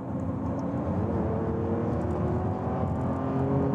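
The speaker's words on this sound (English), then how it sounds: "You can still hear that lovely V12." The V12 hybrid engine of a Lamborghini Revuelto makes a steady, loud drone from inside the moving car, a sustained tone with a slight rise in pitch, under constant road and cabin noise.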